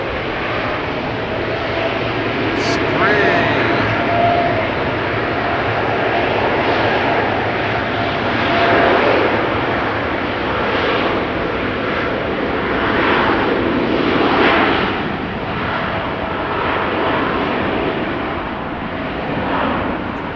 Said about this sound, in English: KLM Flight 569 to Kilimanjaro, 787-10 Dreamliner, the PHBKM.